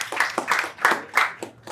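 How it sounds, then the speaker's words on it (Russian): An audience claps for a guest on a comedy show, with a few loud, separate, close hand claps in an uneven rhythm and no talk. "аплодисменты ему, третий наш"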